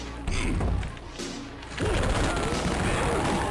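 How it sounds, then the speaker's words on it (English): Gunfire and heavy impacts in the first-person shooter Shadow Warrior, a dense rapid burst of shots with thuds and crashes that fills the whole moment, with brief voice underneath. "Thanks for shooting me through a solid wall."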